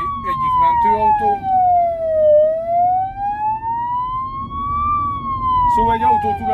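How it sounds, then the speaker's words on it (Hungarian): A Budapest ambulance siren wails loud and near, its tone sliding slowly down and back up in one long sweep, with traffic rumbling underneath and a person speaking over part of it. "Itt a budai egyik mentőautó."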